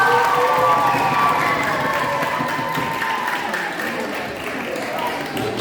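A school audience at a primary school knowledge quiz in Beočin claps and cheers for the quiz participants, a steady, fairly loud wash of applause and crowd noise.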